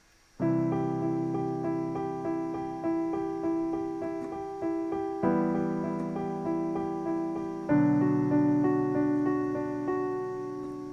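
Piano plays a steady, even stream of rapid sixteenth-note chord notes from a song, changing harmony twice, with a clear rhythmic pulse throughout.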